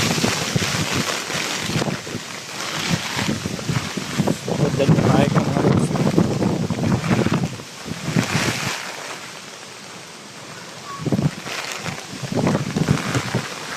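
Strong typhoon wind roars in heavy gusts, rising and easing in waves, with a person speaking briefly underneath.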